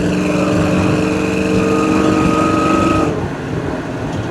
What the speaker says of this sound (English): you get into the throttle, you can hear the exhaust a little bit